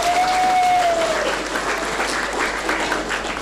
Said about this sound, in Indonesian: Tepuk tangan buat Bapak Sarjana semuanya.